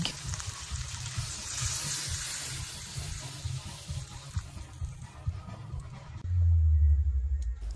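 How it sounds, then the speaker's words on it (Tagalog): Water poured into a pot of simmering chicken halang-halang, a spicy Filipino chicken stew, hissing and splashing steadily before a louder, deeper gush near the end. "This time ato na dayon butangan og tubig."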